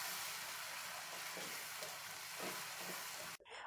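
Spices including paprika and cumin fry in a pan with arbi (taro root), a continuous close sizzle with faint stirring, cut off abruptly near the end.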